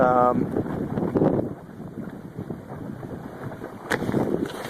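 Wind buffets the microphone while a small electric motor boat slaps across rough water on Rollins Lake, with a low motor hum underneath and occasional splashes.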